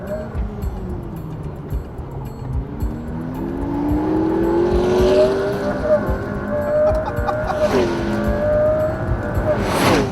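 A McLaren P1 driven in race mode with traction control off on the Top Gear test track, its engine climbing loud and close as it accelerates, with a sharp swell near the end.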